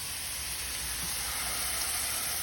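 Salmon fillet sizzles in a hot pan, a steady close hiss of frying that holds evenly without talk.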